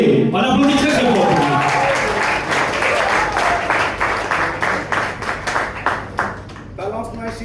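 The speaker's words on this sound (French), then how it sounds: "Sous vos applaudissements, Exo Kage. On applaudit très très fort." Audience applause at a café slam poetry night, a steady wash of many hands clapping that thins out toward the end, with voices and cheering mixed in over a music bed.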